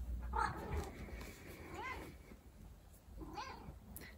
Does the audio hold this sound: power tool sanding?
no